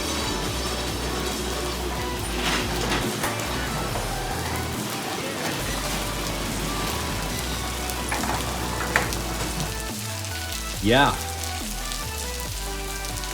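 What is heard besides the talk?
rain tapering off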